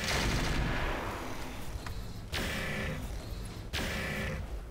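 Mech weapons fire in the RogueTech BattleTech game: three heavy, booming volleys land at intervals, each with a sharp onset and long rumbling decay, with no talk.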